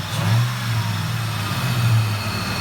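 Supercharged engine of a 2003 Ford F-150 Harley Davidson Edition with MagnaFlow exhaust, revving twice from a deep steady idle with a smooth rising drone, close and prominent.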